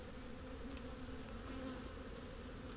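A colony of honey bees buzzing steadily in an open hive, a dense continuous drone with a low hum that holds even and close throughout, no voices.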